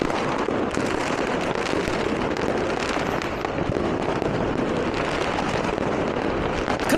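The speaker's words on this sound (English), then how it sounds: "They're not like super high fireworks." New Year's Eve fireworks set off low to the ground crackle and pop in a dense, continuous barrage, loud and close, with rapid bursts layered over a steady hiss and no talk.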